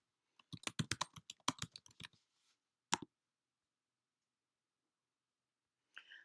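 Computer keyboard typing a short note: a quick burst of crisp, close keystrokes in a rapid rhythm, then a single isolated click, silence, and a few faint taps at the end.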